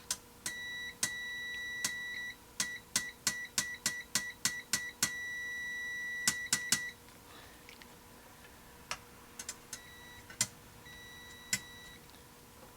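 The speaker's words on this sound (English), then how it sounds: "the buzzer does sound louder on this other one" Kaiweets HT208A and HT208D clamp meters sound their continuity buzzers in a run of short, sharp electronic beeps, first in quick rhythmic bursts, then a few longer tones, then scattered single beeps with quiet gaps between.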